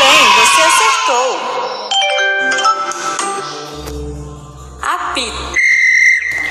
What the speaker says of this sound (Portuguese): Apito.